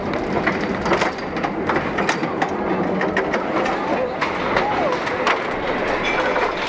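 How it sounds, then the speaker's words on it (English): The cable-hauled Scenic Railway, the world's steepest train route, built in 1880 in the Blue Mountains, descends with a steady rattling rumble and repeated sharp clicks and clacks, with faint murmuring voices mixed into the ride. "we get on the train to make a very special descent with the Scenic Railway"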